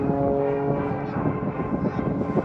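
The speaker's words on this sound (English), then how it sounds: "It's a 385 horsepower engine on a specially designed aircraft." A light, specially built aerobatic airplane with a 385 horsepower engine flies at an airshow, its loud, steady engine drone and propeller roar filling the sound up close.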